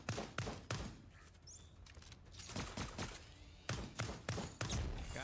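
Turrets firing during a boss raid in the video game Old School RuneScape: a run of sharp, punchy shots in irregular bursts, some clustered close together, with a busy game background between them.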